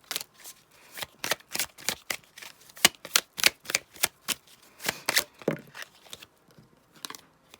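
A deck of tarot cards is shuffled by hand in quick, crisp riffling bursts, a close and fairly quiet run of dry snapping flutters repeating irregularly without speech.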